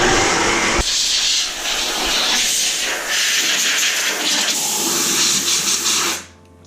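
An air compressor nozzle blasts air in a loud, rough hiss lasting about six seconds, surging and dipping slightly before cutting off abruptly at the end.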